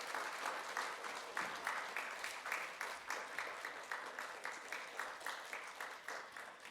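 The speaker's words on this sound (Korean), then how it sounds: "박수로 격려해 주시기 바라겠습니다." Audience applauding graduates at a church completion ceremony, a soft, steady round of clapping with a pulsing rhythm, fairly distant and quiet, continuing for several seconds.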